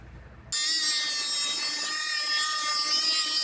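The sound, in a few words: cutting along the inside edge of tape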